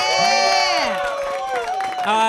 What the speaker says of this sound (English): Round of applause for the first half.